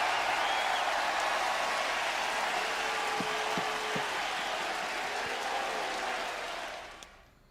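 A sold-out wrestling crowd in Belfast applauds in a steady, dense wash of clapping and crowd noise that holds for several seconds and then fades out near the end.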